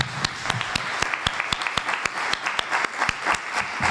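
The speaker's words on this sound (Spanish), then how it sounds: "Vamos a un aplauso a nuestro ponente." A small audience at a lecture applauds the speaker, with sharp, distinct claps in a loose, steady rhythm close by and no talk over them.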